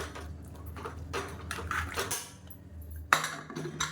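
A metal pressure cooker lid is handled and closed in a home kitchen, giving light scraping clatter and then one sharp clank near the end, with no talk.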